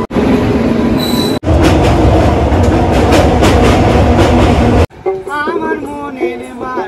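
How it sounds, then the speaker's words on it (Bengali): The Ma Tara Express pulls into a station with loud rumbling, clattering wheels and a steady metallic roar close by. It then cuts to a quieter passage where singing can be heard. "আমাদের ট্রেন ঢুকে গেছে"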